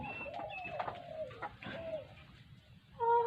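Several bird calls sound close by, with a brooding hen's clucking, cooing voice repeating over a low rustle, then ending in a brief louder tonal call.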